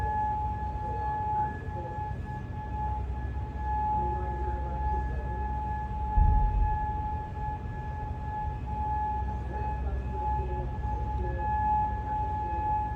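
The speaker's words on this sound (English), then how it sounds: "Seems to be more so just of the air raid sirens." Air raid sirens wailing over Kuwait, a steady sustained tone drifting faintly through distant low rumbling, heard from far off with no voices.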